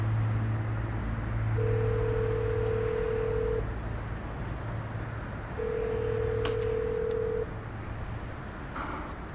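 Two long ringback tones repeat with a gap between, a phone ringing unanswered over a low background hum.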